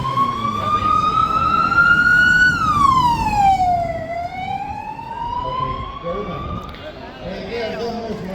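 An ambulance siren wails along a street in Benidorm during a blackout, a loud close tone that rises, dips and climbs again over steady traffic rumble, with people talking nearby.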